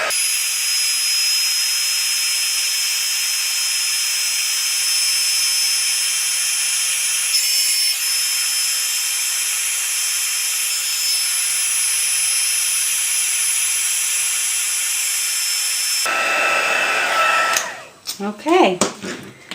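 A heat tool blows a loud, steady hot-air whoosh while heat setting craft work, running close and continuous before cutting off into a few handling knocks.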